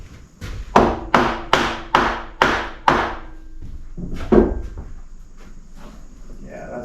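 Sharp taps on a wooden butcherblock countertop strip as it is knocked back into place, a quick run of six evenly spaced knocks, then a single softer thump after a pause.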